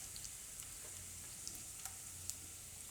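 Whole spices, bay leaf, chillies and cloves sizzle quietly in hot oil in a home kitchen, a soft continuous frying hiss with a few faint pops and crackles.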